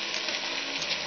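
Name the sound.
okra (bhindi) frying in a pan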